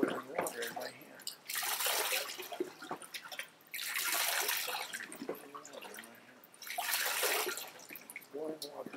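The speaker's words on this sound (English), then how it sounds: "There's boiling water in my hand." Water held in a cupped hand boils at low pressure, only around 53 degrees, giving soft rushing, bubbling bursts that swell and fade several times, mixed with a person speaking.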